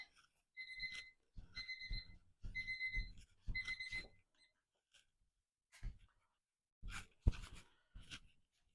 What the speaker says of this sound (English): That's our timer for the cake.